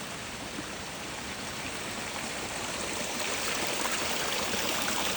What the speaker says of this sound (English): One foot in the waterfall.